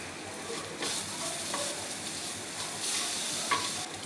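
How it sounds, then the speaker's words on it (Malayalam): Chopped green chillies and a spoon of pepper powder are stir-fried in a pan, giving a steady close sizzle with occasional scrapes of stirring. "വഴറ്റിയതിന് ശേഷം നമ്മൾ അരിഞ്ഞു വെച്ച ആ പച്ചമുളകും പിന്നെ എരിവിനനുസരിച്ച് 1 സ്പൂണ് കുരുമുളക് പൊടി ഇട്ട് ഒന്ന് മിക്സ് ചെയ്യുക."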